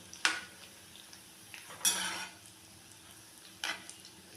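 Chicken cheese balls being turned over in a frying pan, giving three short clinks of utensil against pan at moderate level, with a faint background and no talk.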